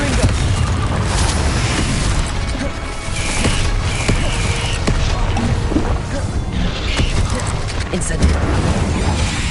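A Confringo spell blasts in Hogwarts Legacy, dense booming explosions and crashing impacts that pile up loud and continuous, with a voice shouting spell names over the din.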